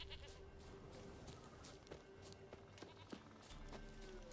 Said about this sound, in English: There she is. So yeah, Axie. Come on. Here, goat